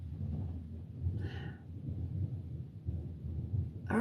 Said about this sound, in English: but yeah, thunder's rolling.